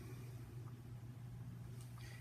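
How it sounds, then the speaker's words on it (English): A low, steady rumble of cars driving by at night sits faint in the background, with a little lighter traffic hiss near the end and no talking. "listening to the silence other than cars driving by is very calming."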